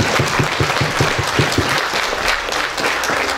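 Loud applause from a congregation at a church patronal fiesta, many hands clapping in a dense wash, with a rhythmic thumping pulse at first that fades into steadier clapping.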